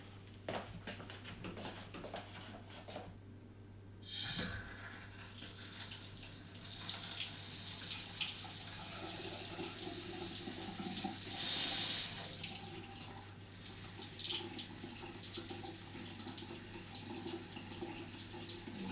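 Water runs steadily from a faucet into a bathroom sink and drains away, a continuous near hiss and splash with a brief surge of flow partway through.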